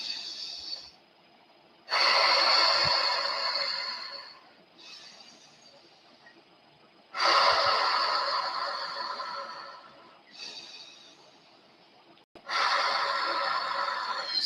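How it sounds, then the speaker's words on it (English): Wim Hof breathing, drawing breath in through the nose and blowing it out through the mouth, with three long loud breath cycles separated by short quieter pauses, close to the microphone. "So we're breathing in through our nose, out through our mouth, in through our nose, out through our mouth."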